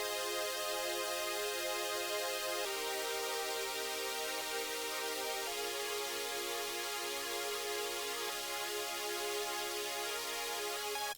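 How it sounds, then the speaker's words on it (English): A rage beat's main chord progression is carried by a bright, buzzy super saw synth melody, with sustained chords shifting every few seconds, loud and dense with no drums or voices. "Starting off with the main chord progression, this is what it's going to sound like"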